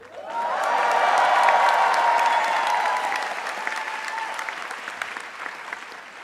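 A large crowd of graduates at a commencement ceremony bursts into sustained applause with scattered cheers and whoops, swelling quickly and then slowly tapering off.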